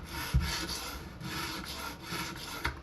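A carving knife is honed by hand, its blade stroked on the second side to raise a burr: quiet, close rubbing and scraping strokes repeat in an even rhythm, with a light tap near the start.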